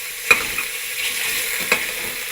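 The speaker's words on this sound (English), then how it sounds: "You want to brown your beef." Beef sizzles and fries in a hot pot with a steady hiss, broken by a couple of sharp scraping stirs and a softer clink, close and without any talk.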